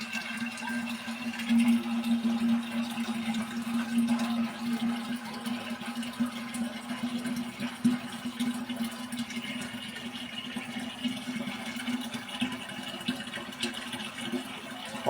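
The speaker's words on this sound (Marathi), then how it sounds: "हंडा भरायला इतका वेळ लागला आहे पाण्याच्या धारीमुळे" A weak, low-pressure stream from a village water tap runs into a metal pot, giving a faint, steady trickling hum that continues unbroken with no talk.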